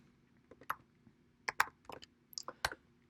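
Typing code on a computer keyboard: scattered, uneven key clicks in short clusters, close and fairly quiet against a faint steady hum, with no talking.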